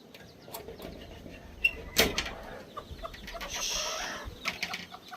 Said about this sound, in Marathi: बघा कोंबड्या